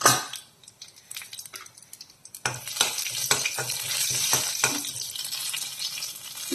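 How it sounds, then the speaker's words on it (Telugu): Mustard seeds and dried red chillies splutter in hot oil in a kadai, tempering for a ladies finger pickle: soft scattered crackles at first, then a loud, steady sizzle dense with sharp pops for the rest of the clip. "ఆవాలు చిటపటలాడాక ఎండుమిర్చి వేసుకుందాం."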